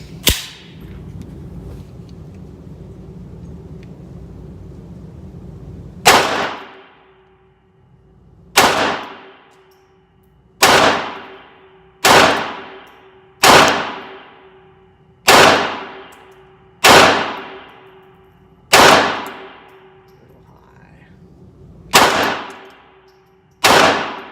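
A Taurus TX22 pistol fires Federal Auto Match rounds at a range, about ten loud, sharp single shots spaced a second or two apart, each ringing off, after a quieter lead-in.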